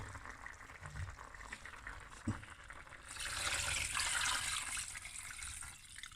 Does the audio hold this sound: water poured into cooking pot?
yes